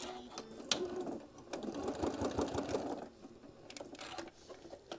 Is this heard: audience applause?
no